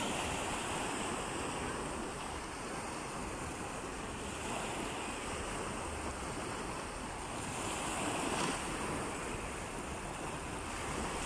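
Ocean waves washing onto a beach in a steady, broad roar, with a slight surge near the end and wind noise mixed in.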